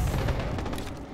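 Gunfire in the shooter Dirty Bomb: loud, continuous rapid shots and booming impacts packed close together, a dense, unbroken barrage filling the whole moment.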